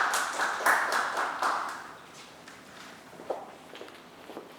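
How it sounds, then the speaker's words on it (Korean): An audience at a lecture on automotive CMF materials applauds as the next speaker is introduced; a moderate burst of clapping from a modest crowd fades within a couple of seconds into scattered claps and room noise. "박수 부탁드립니다."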